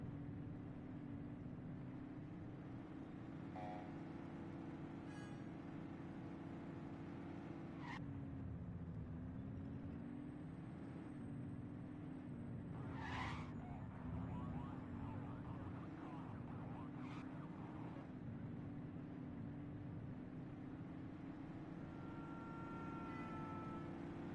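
A car driving steadily in a police video game, engine drone holding a constant pitch with a brief dip and rise midway, faint beeps and tones over it, no voices.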